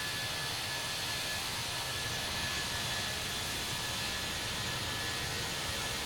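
Toliss Airbus A319 jet engines in a flight simulator game roar as a steady, loud, broadband rush that holds unchanged throughout, with no voices over it.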